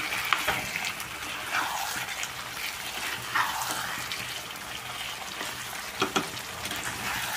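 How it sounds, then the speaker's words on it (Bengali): Red meat curry sizzling steadily in a pan, a continuous frying hiss with occasional stirring scrapes and small pops, close and moderately loud with no talking. "এখানে একদম লাল লাল করে মাংস করছি আজকে।"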